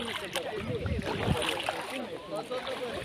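People wade into a river from the bank, water splashing and sloshing close by in irregular bursts while voices talk over it.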